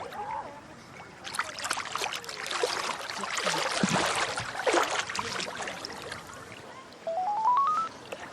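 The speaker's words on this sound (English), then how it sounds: "Phone." A mobile phone ringtone plays loudly with a rising run of tones near the end, over splashing water and ambient noise while floating in the Dead Sea.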